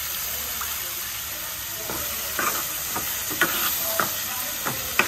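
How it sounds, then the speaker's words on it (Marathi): Spice tempering sizzling in hot oil in a home kitchen, with steady frying hiss and a few scraping stirs of a spoon in the pan; brief voice sounds are faint in the background. "आपण फोडणी घातली."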